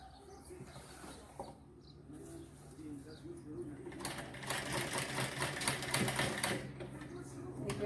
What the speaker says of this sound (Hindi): ये हम 6 इंच पे इसकी सिलाई लगाएंगे।